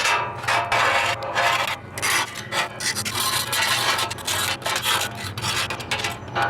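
A scraper grinds steadily across a hot Blackstone 28-inch griddle, clearing food bits with continuous loud rasping strokes in a repeating back-and-forth rhythm.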